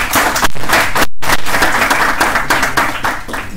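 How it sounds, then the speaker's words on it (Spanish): Audience applause for a glaucoma specialist's talk at a Peruvian ophthalmology chapter meeting: dense, loud clapping from a full room, broken briefly by a short cut near the middle, then steady to the end. "te damos un aplauso por la brillante charla"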